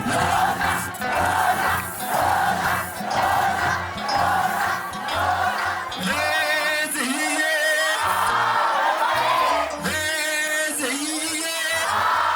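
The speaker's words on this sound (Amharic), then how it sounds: "እናቴ ሎዛ እልል በል" A crowd at a church service at Loza Mariam ululates in long, high trilling waves, loud and close, with shouts and cheering swelling beneath the rising and falling calls.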